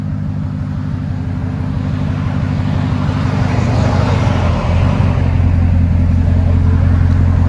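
A 2018 RAM 1500 with the 5.7L HEMI V8 and a Flowmaster Super 10 dual exhaust idles and revs with a loud, close, steady deep rumble. The drone thickens and swells slightly toward the end, and nobody speaks over it.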